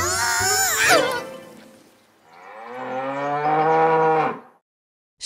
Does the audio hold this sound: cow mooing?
yes